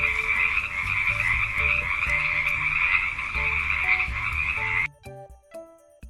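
A Xenopus clawed frog from sub-Saharan African fresh water croaks in a steady, loud, continuous trill for about five seconds, then stops abruptly, leaving a few faint clicks and sparse scattered notes.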